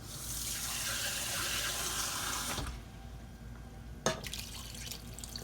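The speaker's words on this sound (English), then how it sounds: "A little bit more water to this." Water splashes into a pot of smothered beef tips seasoned with Worcestershire in a steady, fairly loud pour for about two and a half seconds, then goes quiet apart from a sharp clink.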